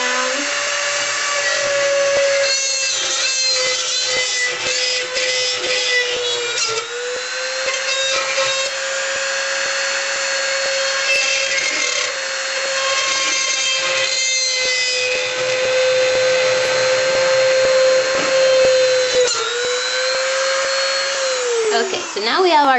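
A high-speed drill bores holes into a piece for a gold sailor anchor necklace, giving a close, continuous whine that dips briefly in pitch each time the bit bites in and bogs down.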